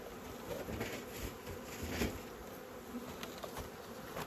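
A honey bee swarm buzzing around a hive, a dense continuous drone of many wings, close and steady with no one talking.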